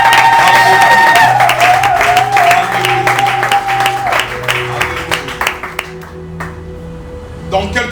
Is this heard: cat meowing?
no